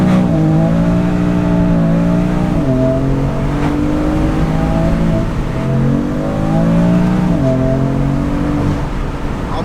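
Tuned BMW M3 engine revving after a power upgrade, loud and close, with rhythmic rises and falls in pitch as the throttle is blipped repeatedly and no talk.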